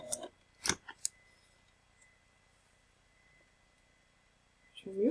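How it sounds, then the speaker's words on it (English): Scissors trimming threads after sewing a seam, a few sharp close snips clustered early, then quiet before a voice starts speaking at the end. "trim your threads"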